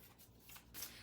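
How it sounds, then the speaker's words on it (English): Tarot cards being shuffled by hand in a quiet room, a soft papery riffle and rustle that swells briefly near the end, with no talking. "let's go ahead and shuffle these cards"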